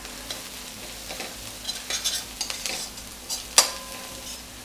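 Onions frying in a pan with turmeric powder for poha are stirred with a utensil, giving a steady sizzle under scraping strokes and one sharp clink near the end.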